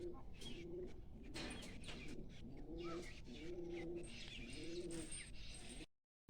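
A pigeon cooing repeatedly on a rooftop, soft rolling coos in a steady rhythm over background hiss and faint chirps, near and clear before a brief cut to silence.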